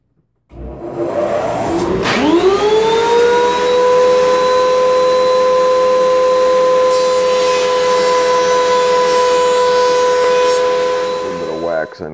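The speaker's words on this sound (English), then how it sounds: "gonna run it through my planer just to save some time" An electric wood planer, used to surface stock for a cross-cut sled, starts up, its motor whine climbing in pitch, then runs loud and steady at full speed for about nine seconds before stopping.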